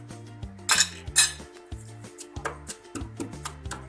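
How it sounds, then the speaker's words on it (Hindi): Red chilies and garlic are pounded and crushed for a radish sabzi, producing close, uneven metallic clinks and knocks over a steady melodic tone in the background. "ये कुटी हुई मिर्चें लाल, ये भी 1 चमचा इसमें कूट लूँगी।"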